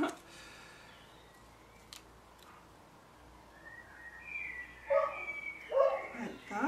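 A dog barks in the distance, a few sharp yaps late in the clip over quiet background noise.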